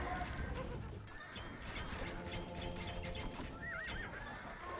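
Keshik cavalry horses in Age of Empires neigh and whinny over clip-clopping hooves and clanking battle noise, a busy, continuous game soundscape with a whinny standing out near the end.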